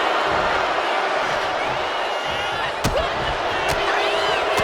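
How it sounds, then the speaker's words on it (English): A video game arena crowd from WWE 2K25 SmackDown roars and cheers in a continuous dense wash, with a couple of sharp impact slams partway through. "The crowd is behind Piper, and she knows it."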